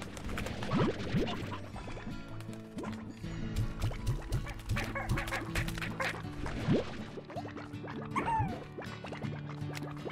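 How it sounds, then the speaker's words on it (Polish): Poultry calls from roosters in the farming game Slime Rancher, a run of short clucking, quacky bursts scattered over watery, dripping background sounds, fairly close and continuous. "Koguty!"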